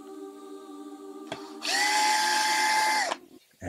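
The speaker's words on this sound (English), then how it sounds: "We gotta take off these screws." A power screwdriver removes screws from a Yaesu FTM 400 mobile radio, giving one loud, steady motor whine of about one and a half seconds over a background hum, preceded by a faint click.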